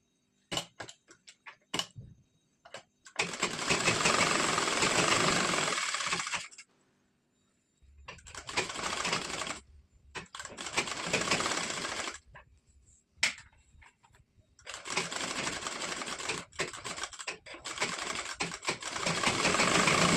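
A sewing machine stitches the side seams of a blouse in several bursts of steady, fast mechanical whirring, each running a few seconds, separated by short pauses with a few isolated clicks.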